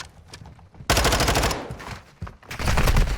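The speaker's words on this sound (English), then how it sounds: "Temptation with a ridiculously random gunshot" Call of Duty multiplayer gunfire in a competitive league match: scattered shots give way to loud, sustained automatic bursts, a short lull, then another heavy volley.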